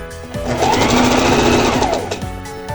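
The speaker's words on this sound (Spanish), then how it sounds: "cosemos a medio centímetro y después por revés a 1 centímetro para envolver nuestra costura" A sewing machine stitching a blouse seam, a loud, close, continuous mechanical whirr that runs at speed for about two seconds and then slows.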